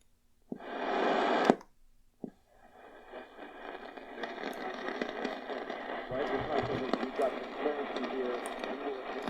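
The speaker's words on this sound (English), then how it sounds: "I hear something, 690 Montreal," An AM station fading in on a Sangean DT-180 portable radio as it is tuned: a brief static burst and click, then a steady crackly broadcast signal with a voice in it that slowly grows stronger under interference.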